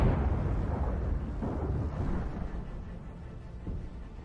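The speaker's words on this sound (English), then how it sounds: "A second Kornet hit stops the APC" A Kornet anti-tank missile striking an armored personnel carrier in combat, heard as a loud, deep rumbling blast that fades slowly into a lingering low roar.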